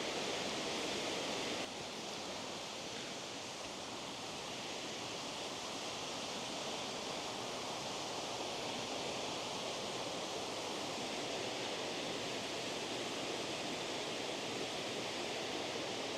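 The Glen Mooar waterfall on the Isle of Man roars as a steady, dense rush of falling water, continuous and unchanging throughout with no voices.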